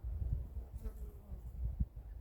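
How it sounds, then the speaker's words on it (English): Honeybees buzz around a beehive during cool winter weather, a faint continuous low drone with a brief higher whine of one bee passing close, steady background hum throughout. "you can still see behind me that the bees are coming and going"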